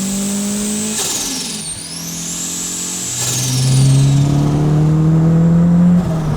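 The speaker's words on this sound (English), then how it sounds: "audibly overwhelmed by these turbo sounds" Turbocharged Honda VTEC engine swapped into a Mazda RX-8, revving and accelerating up through the gears, with a steady engine drone, a gear-change dip and a whistling turbo sweep above it, loud and close with no talk.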